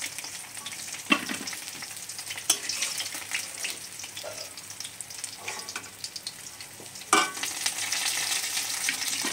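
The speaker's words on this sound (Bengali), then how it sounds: "দেখো মাছটা আমার ভাজা হয়ে গেছে" Koi fish frying in a pan for a Bengali fish dish: a loud continuous sizzle with scraping spatula strokes and a few sharp clatters, with no speech.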